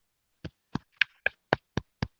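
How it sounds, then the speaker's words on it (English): Seven sharp hand claps in a quiet room, close and distinct, spaced at a steady, slightly uneven rhythm, with no voices. "Hear me clapping?"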